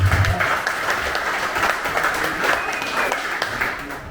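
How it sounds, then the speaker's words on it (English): Applause from an audience at a live Melbourne Silicon Beach meetup, a steady wash of many hands clapping at moderate distance that holds throughout and fades slightly toward the end. "A little bit of applause, please."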